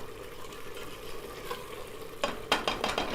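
Mutton liver cooks in hot oil while being stirred in a pan, giving a low, steady sizzle with scraping stir strokes that grow sharper and more frequent toward the end.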